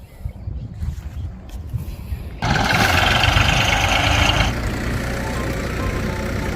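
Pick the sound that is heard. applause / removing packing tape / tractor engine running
tractor engine running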